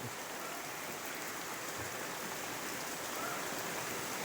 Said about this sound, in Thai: มายืนหลบฝนอยู่นะครับ